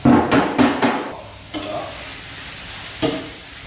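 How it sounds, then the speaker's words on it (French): Meat stirred back into a pan of bolognese sauce for a canteen-scale batch, with a few quick scraping stirs over a soft sizzle, then quieter frying and one more stir near the end. "Là on va réincorporer la viande dedans."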